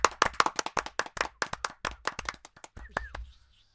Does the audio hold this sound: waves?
no